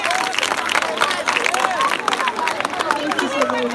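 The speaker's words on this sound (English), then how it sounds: "A round of applause to her, please" Scattered clapping from an audience at a school anniversary celebration, mixed with crowd babble and voices, moderately loud and uneven.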